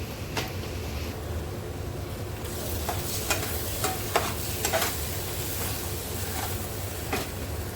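Cashew and onion gravy being stirred into hot oil in a pan for a dhaba-style kaju masala, a constant loud sizzle broken by a series of sharp spoon scrapes against the pan.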